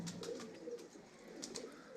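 Soft pigeon cooing repeats in low, throaty bursts against a steady background hiss, fairly close and moderate in level, with no voices.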